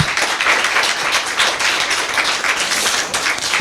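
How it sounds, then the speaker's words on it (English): Dense, steady applause from an audience at a writing talk, many hands clapping together at an even level for a few seconds, with no voices. "we just have a round of applause"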